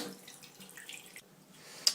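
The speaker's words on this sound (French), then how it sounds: "boucher l'évier, remplir l'évier jusqu'au système d'évacuation d'eau chaude" Hot water running into a stoppered kitchen sink that is being unclogged without chemicals, a soft continuous pouring and gurgle ending in a sharp drip or clink, with no voices.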